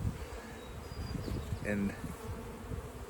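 Honey bees hum and buzz close by as hive frames are lifted and checked during a June inspection, a steady insect drone with a brief louder buzz midway and a few soft words spoken over it.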